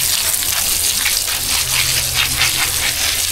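Water gushes steadily from a hose onto the base of a newly planted papaya tree, a loud, close, continuous splashing rush with no voices.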